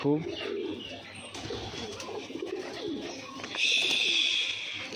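Pet pigeons kept in a village coo softly in repeated low calls, close by, while a person talks over them.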